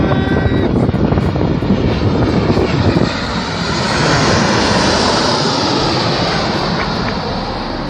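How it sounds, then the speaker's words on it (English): A fixed-wing airplane passes close by with a loud, sustained engine roar that swells and shifts in pitch across the whole stretch, with no talking. "Oh my God, look at this plane."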